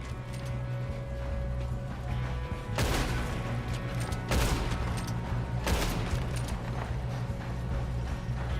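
Gunfire in Red Dead Redemption 2 during a fight with train guards: three sharp, loud bursts of shots a second or so apart over a steady low rumble of game ambience.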